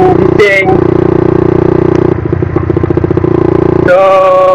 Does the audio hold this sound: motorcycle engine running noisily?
yes